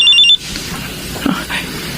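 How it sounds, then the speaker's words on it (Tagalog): Cellphone ringing with an incoming call, a loud electronic ring of rapid repeated tones for a moment before it cuts off, followed by quiet room tone. "Nay, may tumatawag po sa cellphone niyo."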